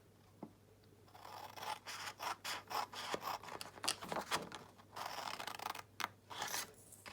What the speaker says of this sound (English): Now you're going to cut from each edge up to that first score line.